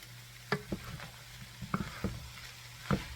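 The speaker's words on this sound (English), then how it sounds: "I can honestly say this is pan frying, right?" Food pan-frying without oil, a soft steady sizzle broken by several sharp scrapes and clacks of stirring in the pan, close and fairly quiet, with no talking.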